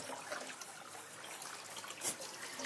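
A shower runs on a farm, a faint, steady trickle and spray of water with a brief louder splash near the end, with no talking.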